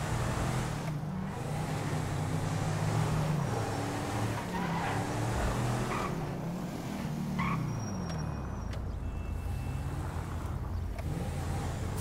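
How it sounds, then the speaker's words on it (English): A car engine at full speed in Grand Theft Auto V, droning loudly and continuously with shifting pitch as it revs, plus occasional tire squeal, with no pauses throughout. "the repetitiveness of the sound of the vehicle, like, it's like proper just, the car's just holding on to keep going"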